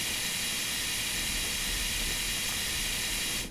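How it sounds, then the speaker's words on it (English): Wheel slip of a BR146.0 electric locomotive in Train Simulator 2015 on the Cologne–Koblenz route: a loud, steady broadband hiss and roar with no clear rhythm, continuous and close throughout, cutting off at the very end. "Wheel slip."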